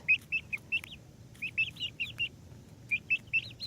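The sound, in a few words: Rhode Island Red chicken clucking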